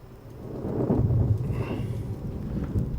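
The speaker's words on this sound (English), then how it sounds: "there's nothing like a fistful of lightning now, is there?" Lightning plasmid zap in the BioShock video game, a crackling electric burst that swells into a rumbling, thunder-like roar and then trails off with scattered crackles.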